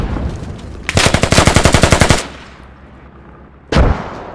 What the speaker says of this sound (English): I'm taking fire from down below now.